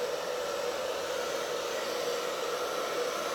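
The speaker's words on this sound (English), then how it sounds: "Might as well hit it with a little bit of heat. Hair dryer right here." A hair dryer blows on hair during a finger wave set with a steady, loud whoosh that holds constant from start to finish, with no talking.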